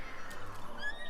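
A horse whinnies in the video game The Legend of Zelda: Breath of the Wild, a short neigh at moderate volume over soft background ambience.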